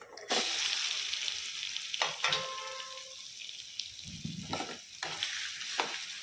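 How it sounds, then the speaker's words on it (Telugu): Coconut chutney with curry leaves frying in a pan, a bright steady sizzle broken by several sharp scraping stirs of a spoon, close and loud, with no voices. "ఇప్పుడు మనం ఈ కొబ్బరి పచ్చడిని ఇందులోకి వేసేసుకుందాం"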